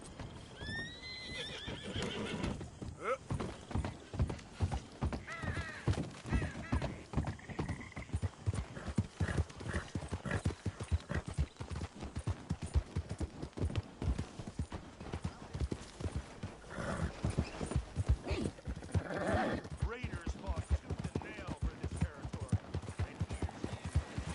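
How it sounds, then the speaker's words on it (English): A horse in the Red Dead Redemption 2 video game trots with steady, rhythmic clip-clop hoofbeats throughout, close and prominent, with a few whinnies breaking in near the start and later. "Oh damn, my poor horse."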